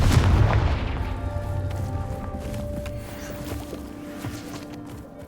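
Confringo explosive spell cast in Hogwarts Legacy, a loud low booming blast at the start that decays into a sustained rumbling, ringing tail with faint tonal hum, no voices.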